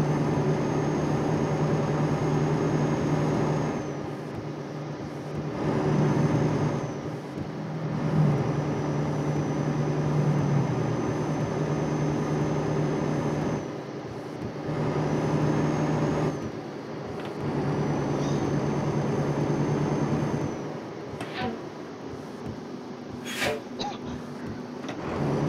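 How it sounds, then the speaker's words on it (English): Truck engine droning steadily in Euro Truck Simulator 2, a low hum with a faint high whine, rising and dropping in level as the rig drives, with quieter environment noise between and a few brief clicks near the end. "let you hear the sounds of the engine sound updates and the environment updates"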